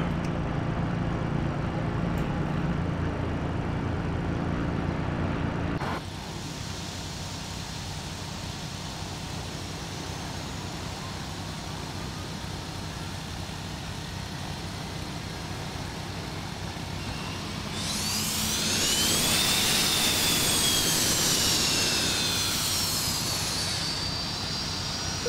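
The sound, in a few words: MD-83 engine 1 starting, Prepar3D flight simulator video game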